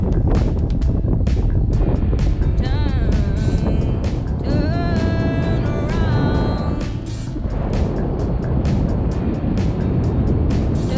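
Strong, steady wind roars across the microphone while paragliding at sunset, a loud continuous rush with faint tonal whistles drifting through it.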